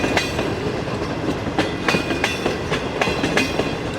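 A train rolls through the Chanesar Halt station in Karachi, its wheels beating a steady, loud clickety-clack with regular rail-joint thumps over a continuous rumble, close and without talk.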